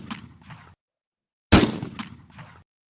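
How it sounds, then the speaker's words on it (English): A single loud gunshot sound effect cracks in sharply, a sudden close blast that decays over about a second, dropped between stretches of someone talking. "Let's get a gunshot on that bitch too."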